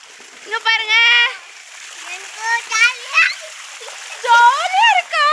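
A young child splashes and plays in water at a family home, bursts of excited chattering and squeals coming in short bouts over light background water sound.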